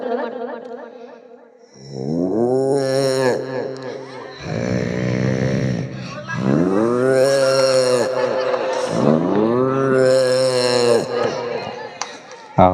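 A voice mimics a cow calf's bleating, with several long, drawn-out wavering calls in a row, loud and close, each rising and falling in pitch.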